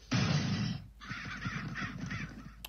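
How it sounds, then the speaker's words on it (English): Cartoon crows caw loudly in a harsh, raspy burst, followed by a quicker string of overlapping caws, close and dominant with no talking. "those crows keep getting in"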